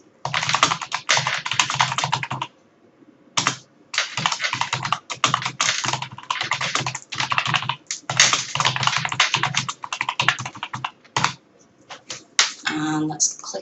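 Rapid typing on a computer keyboard, close and clear, with dense runs of key clicks broken by short pauses and a few sharper single key taps near the end.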